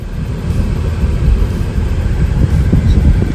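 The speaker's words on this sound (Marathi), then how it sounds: "आजीच्या गाडीतून निघालोय आपण" Honda City car on the move, heard from inside as a steady, loud low rumble of engine and road noise with no talking.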